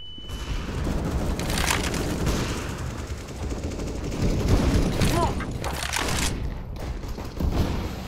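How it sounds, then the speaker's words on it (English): Counter-Strike: Global Offensive match with a flashbang grenade thrown amid constant gunfire, booming bursts and dense, loud in-game battle noise throughout. "Throwing a flashbang."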